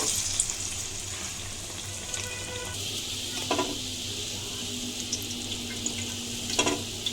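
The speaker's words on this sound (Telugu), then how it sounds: "తర్వాత ఆయిల్లో వేసుకొని ముందులాగా ఫ్రై చేసుకోవాలి" Sesame ariselu, a jaggery sweet, frying in oil: a continuous moderate sizzle with a few light stirring clinks, close and without talk.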